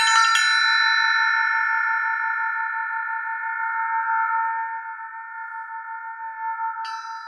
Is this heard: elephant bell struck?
yes